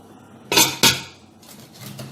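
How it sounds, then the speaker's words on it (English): Metal utensils clank twice, loud and close, while caramelized corn drink (asaana) is sieved into a bowl, followed by softer scraping and rustling. "I'm going to sieve the remaining ones into another bowl"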